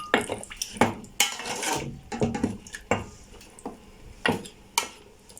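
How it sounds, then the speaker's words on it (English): Pork trotters and their broth go into a cooking pot for a trotters and beans curry, heard as a string of close, sharp clinks and knocks of a utensil against the pot with some wet sloshing between them. "Now add in all of the trotters with some of its broth and let this cook a bit."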